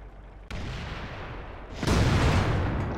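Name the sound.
tank cannon firing in World of Tanks video game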